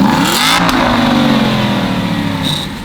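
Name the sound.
manual car engine revving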